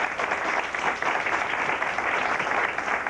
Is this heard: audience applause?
yes